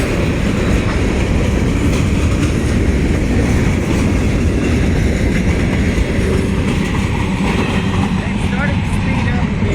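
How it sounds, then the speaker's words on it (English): A southbound freight train rolls through Bunkie, Louisiana, gathering speed, its loud continuous rumble and clattering wheels close by, with voices of onlookers mixed in. "this train started to speed up"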